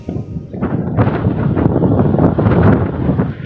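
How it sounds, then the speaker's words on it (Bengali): Strong wind gusting against the microphone on a street in Saudi Arabia, a steady loud roar with rumbling buffets that swell and ease throughout, no voices. "রোদ এরকম বেশি নাই, কিন্তু বাতাস অনেক বাতাস"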